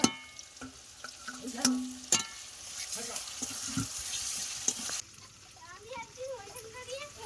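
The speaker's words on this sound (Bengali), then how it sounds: "কড়াইতে তেল আছে ওই তেলের মধ্যে একটু চিনি দিয়ে দিলাম পেঁয়াজ কুচি দিয়ে দিয়েছি রসুন বাটা আদা বাটা" Chopped onion with garlic and ginger paste fry in oil in a wok, a soft, steady sizzle with occasional stirring clatter that stops partway through, with a voice speaking quietly near the end.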